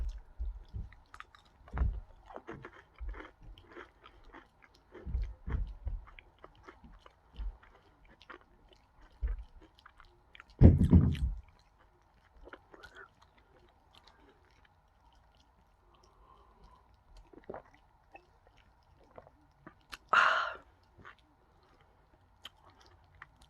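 Someone bites into and chews a white chocolate breakfast snack with a filling in the centre, giving soft irregular crunches and squishy chewing close up. There is one louder bite partway through, and faint background noise fills the gaps.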